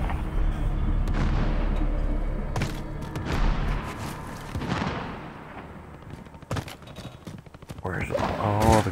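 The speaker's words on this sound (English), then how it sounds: "Where's all the gunshots are coming from over here?" Gunfire in a Warzone battle: heavy booming shots and bursts crack out repeatedly, some near and loud, others more distant, with sharp isolated reports toward the end.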